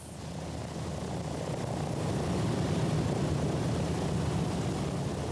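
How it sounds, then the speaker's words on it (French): A Boeing B-17 Flying Fortress bomber at the 1999 Duxford airshow drones steadily with a loud, continuous low propeller and engine roar, no voices present. "le Boeing B-17 Forteresse volante de l'association Forteresse toujours volante s'est imposé comme l'une des grandes vedettes de Flying Legends 1999"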